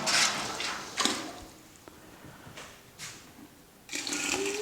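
Hot sparge water at 75 to 80 degrees is flushed through the grain bed in a Brewcrafter 25 home brewing system, with bursts of splashing and rushing water separated by quieter trickling gaps.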